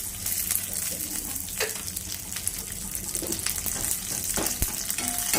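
Tempering spices sizzling in hot oil for Tulu-style sambar, a close crackling fry with scattered pops and stirring clatter, continuous and moderately loud with no voices.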